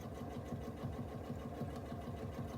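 A sewing machine stitches free-motion quilting swirls on fabric, a fast steady mechanical chatter heard close and quiet, continuous for the whole stretch with no talk.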